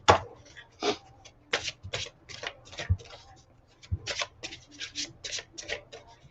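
Oracle cards being shuffled in the hands, a series of crisp riffling bursts and soft slaps repeating irregularly, close and fairly quiet, with no talk over them.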